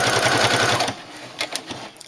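A sewing machine stitches bias binding onto a fabric edge in a loud, rapid mechanical run for just under a second, then stops, leaving a few light clicks and handling taps.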